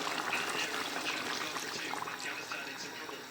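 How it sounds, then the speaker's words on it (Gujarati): Water pours steadily into a pot of partly cooked chicken curry, a continuous close splashing trickle lasting a few seconds with no clear talk over it. "હવે આપણે એમાં નાખીએ પાણી."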